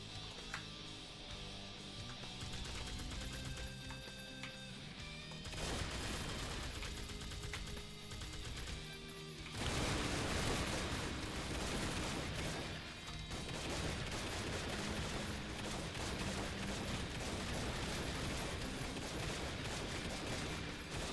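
Video game gunfire in Madness Interactive Reloaded: dense, continuous bursts of rapid shots and fusillades with crashes and booms, loud and unbroken throughout, intensifying partway through, with no talk.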